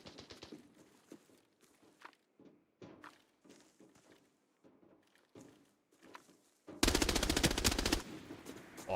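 Video game gunfire from a FAMAS rifle: scattered soft thuds and footsteps, then a loud rapid burst of automatic shots lasting about a second near the end.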